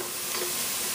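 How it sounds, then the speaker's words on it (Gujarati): Dried peppers and a cinnamon stick fry in oil in a pan, giving a steady, close, loud hiss of sizzling that holds evenly throughout with no talking. "I'm just going to let it fry just a little bit to get out all the flavors from our"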